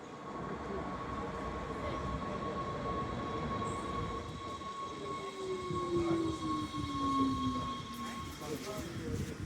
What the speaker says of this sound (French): Allez, c'est parti, on monte dans le train.